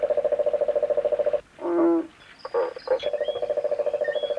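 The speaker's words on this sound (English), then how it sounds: "another noisy frog joining its froggy friends" Frogs call in a fast, steady pulsing trill that breaks off for a moment while a different, warbling call cuts in, then the rhythmic chorus resumes, close and clear.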